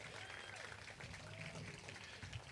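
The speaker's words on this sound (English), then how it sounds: "Can I get another round of applause, please?" Audience at a community celebration and ribbon cutting applauds in a steady, fairly quiet round of clapping, with faint voices and crowd noise mixed underneath.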